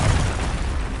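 A Confringo blasting spell bursts in the Hogwarts Legacy video game during a troll fight, a loud, sustained rumbling boom with heavy low-end weight that fills the whole moment without fading.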